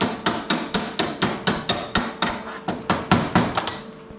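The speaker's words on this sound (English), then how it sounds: "for the sake of the camera, I'm gonna clean some of this slag off here" Hammer chipping slag off a plasma-gouged steel scarf, a quick steady run of sharp metallic strikes, about four per second, close and loud with no talk.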